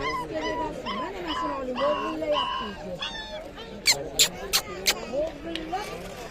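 Several dogs at a dog market whimper, yip and bark in short bursts, with a run of sharp barks near the end, under nearby talk and market chatter.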